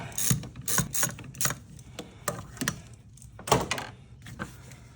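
Ratchet clicking in short bursts while backing out a brake master cylinder bolt on a BMW 850i, repeated quick pawl ratcheting strokes up close with small pauses between them.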